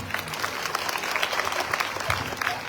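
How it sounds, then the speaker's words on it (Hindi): Loud, steady applause from a crowd at a religious gathering, honoring the tabla player and accompanying singers, continuous clapping throughout with no speech. "उनके लिए भी जोरदार तालियां"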